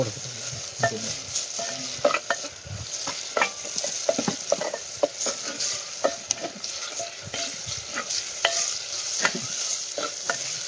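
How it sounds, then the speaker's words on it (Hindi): Spices sizzle and crackle in hot oil as a tadka for dal while a utensil stirs and scrapes the pan, with frequent sharp pops and clicks over a steady fry. "तो यहाँ पे ये तड़का बन रहा है"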